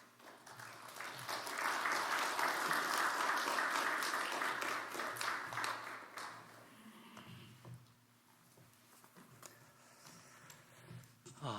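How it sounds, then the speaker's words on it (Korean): A church congregation gives a warm round of applause to welcome the pastor to an early-morning service, loud and dense for about six seconds before fading to scattered claps and quiet murmuring. "이제 목사님 나오실 때 큰 박수로 환영해 주십시오."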